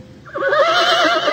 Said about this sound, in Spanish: Ante la puerta resoplaban impacientes dos caballos negros como la noche